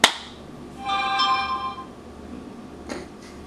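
A phone pairing with headphones gives a sharp click followed by a clear electronic chime tone lasting about a second, then a faint short blip, all fairly quiet in a calm room.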